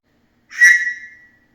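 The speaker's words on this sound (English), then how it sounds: "It's late or else I would blow into it harder, but it's like a train whistle." A small survival whistle from an advent calendar, flat and with a strange tone, is blown softly once, a single brief breathy shrill tone that swells and fades with no talk.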